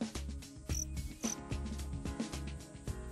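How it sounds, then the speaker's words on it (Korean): Edible crickets on a mass-rearing farm, raised on a substrate instead of soil, chirp in a steady, rhythmic chorus. Repeated pulsing trills sound close and clear, with no voices. "식용으로 길러지기 위해 흙이 아닌 배지에서 태어나는 귀뚜라미들"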